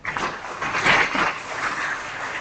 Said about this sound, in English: a warm applause to Mark Grimley